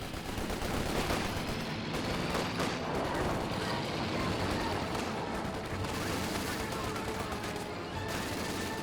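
Battle noise from Company of Heroes 2 keeps up a constant roar of rifle and machine-gun fire with scattered heavier blasts. The fire is dense and continuous, and faint voices sit underneath it.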